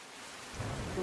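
Heavy rain pours steadily while floodwater rushes across a road near Raipur in Bhiloda, Aravalli, during river flooding: a dense, constant hiss that swells to a louder, rougher wash halfway through, with no voices.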